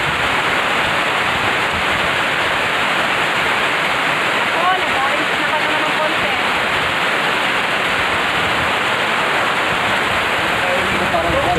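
Heavy storm rain pours down in a steady, dense roar that stays loud and unbroken throughout, with a faint voice occasionally audible beneath the downpour.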